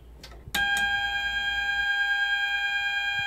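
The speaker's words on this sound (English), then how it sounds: "So you can see all the zones here go into alarm." A Fireguard 4000 fire alarm panel sounding in drill mode: after a few short clicks, a loud, continuous multi-tone electronic alarm tone starts abruptly and holds steady, close and unbroken.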